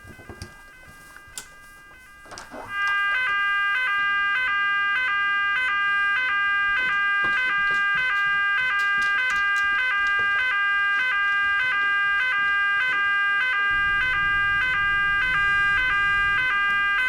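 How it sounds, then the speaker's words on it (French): An alarm blares in a loud, continuous, rapidly pulsing electronic tone that starts abruptly after a couple of seconds of quieter room noise and keeps sounding without pause. "Ah, t'as pas entendu l'alarme?"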